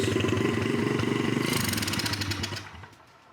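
A pit bike engine with a dirty carburetor runs close up, a rattly buzzing idle that is blipped briefly higher and then cuts out, falling quickly to quiet.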